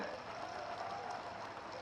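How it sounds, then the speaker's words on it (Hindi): An audience claps together at a large outdoor Jauhar memorial tribute ceremony in Chittorgarh, a dense, steady burst of applause heard briefly and at moderate loudness. "एक बार आप सब लोग ताली बजा दें।"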